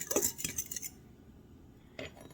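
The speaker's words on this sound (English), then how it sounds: "I'm combining all of my dry ingredients" Soft clinks and scrapes of a utensil in a bowl while dry ingredients for pie crust are combined, a few quiet taps early, a lull, then one more clink.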